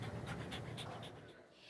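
A dog panting steadily at close range, quick rhythmic breaths repeating for a couple of seconds, at a dog training program run with inmates.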